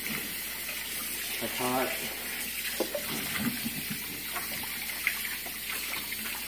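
Tap water runs steadily while dishes are rinsed at a kitchen sink, a constant close wash of flow with small clatters, under brief talk.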